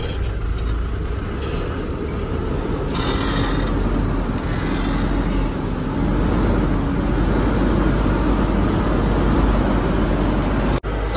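A loaded truck rolls along in second gear, its engine a steady loud drone throughout with continuous road and wind noise and no break in the rumble.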